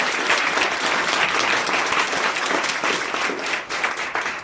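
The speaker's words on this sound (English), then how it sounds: "Please give another warm round of applause for all of our presenters and master's levels." Warm, dense applause from an audience at a university Three Minute Thesis competition fills the room, loud and sustained, with no speech heard.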